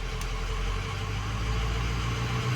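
A 6.0 diesel engine idles at a steady low rumble after its high idle is switched off, close and continuous with no talk.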